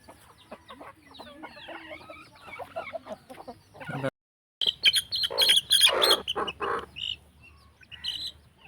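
A chicken clucks and chirps repeatedly up close, with a louder burst of clucking partway through.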